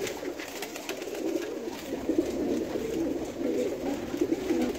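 A jugnu breed pigeon coos softly and repeatedly over steady background noise, faint and somewhat distant.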